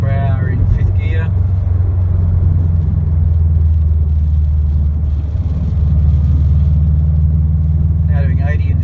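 A 2017 Subaru WRX STI with an Invidia R400 cat-back exhaust cruising in fifth gear, a steady deep droning exhaust hum heard from the cabin, with someone talking briefly at the start and end.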